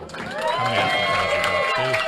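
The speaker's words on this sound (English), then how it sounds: "Lots of applaud for Efren." A crowd at Efren Reyes's 9-ball pool match against Mika Immonen in New York cheers and applauds, a steady swell of clapping and shouts that holds for the whole stretch while a commentator talks over it.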